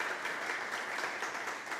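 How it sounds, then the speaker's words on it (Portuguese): A church congregation applauds during a sermon, a brief, even burst of many hands clapping at moderate volume, heard alone. "Dá uma salva de palmas para Jesus"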